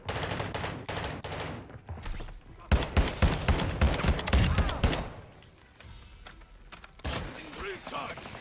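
Rapid gunfire from a gun in a video game, dense bursts of closely spaced shots rattling in quick succession, loud and near, easing off into quieter mechanical clicks and sparse shots toward the end.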